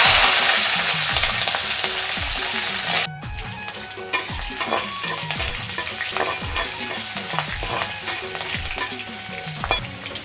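Curry leaves and chillies crackle and sizzle loudly in hot oil for a Chhattisgarhi besan kadhi, with a sharp initial burst that settles into steady frying and repeated stirring clinks.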